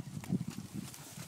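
A horse trots out under a rider in windy open ground, a few soft, fairly close hoofbeats in a quick uneven rhythm, faint against background rustle.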